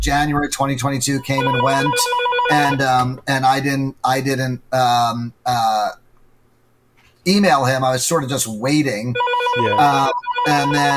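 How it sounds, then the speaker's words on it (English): A telephone rings in the background while someone talks over it, and the ringing is briefly audible in a pause in the speech. "sorry about the phone ringing. Somebody will hopefully pick it up."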